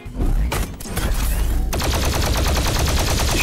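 DOOM weapon fired in Garry's Mod, a loud burst of rapid gunfire: a few heavy shots, then a dense, continuous stream of firing that holds steady to the end.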